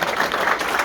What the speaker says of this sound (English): Do we have a round of applause for the